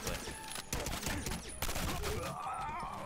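Rapid automatic gunfire from a weapon in the game Quantum of Solace on PC, a dense continuous barrage of loud shots with a few brief breaks, with a tone sweeping upward near the end.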